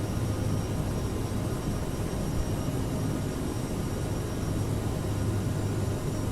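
Constant broad engine roar of a CRJ regional jet departing from Spain in Microsoft Flight Simulator 2020, loud and steady throughout with a faint tonal whine on top and no talking.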